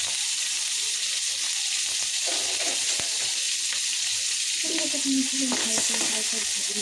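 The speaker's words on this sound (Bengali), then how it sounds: "এটা কিন্তু ভালো করে ভেজে নেবো" Onions sizzle steadily in a hot pan, a constant bright hiss with occasional stirring scrapes and clicks, close up and with no talking.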